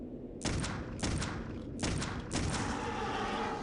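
Four bursts of gunfire from Clive Barker's Undying, a first-person horror shooter, each a sharp loud crack with a ringing tail, spaced about half a second to a second apart over a steady game background.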